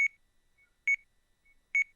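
Electronic alarm in a video game beeps three times in a slow, even rhythm, each beep short, clear and high-pitched against silence.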